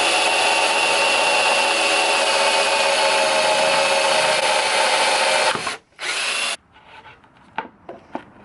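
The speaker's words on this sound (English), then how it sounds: "Then I'll mark again and drill the holes." A power drill bores holes for a DIY luggage rack platform on a Yamaha V Star 1100, whirring loudly and steadily for over five seconds, then stopping with a short burst and some scattered clicks and handling knocks.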